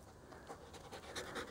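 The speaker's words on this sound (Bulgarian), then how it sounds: "Къде е кучето" A dog pants on a mountain trail run in the Rhodope area near Markovo, Bulgaria, quick rhythmic breaths that are faint and close, with no talking.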